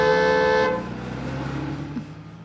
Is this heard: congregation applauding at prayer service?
no